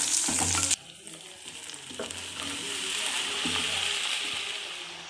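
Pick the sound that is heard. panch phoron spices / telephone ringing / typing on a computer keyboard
panch phoron spices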